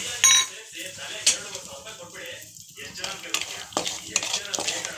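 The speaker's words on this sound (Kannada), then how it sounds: "ಇವಾಗ ಗೋಡಂಬಿ ದ್ರಾಕ್ಷಿ ಹಾಕ್ಕೊಂಡು ಫ್ರೈ ಮಾಡ್ಕೋತಾ ಇದ್ದೀನಿ." Cashews and raisins frying in hot ghee with a light sizzle, broken by spoon-on-pan scraping and clinks, close by with brief quiet stretches.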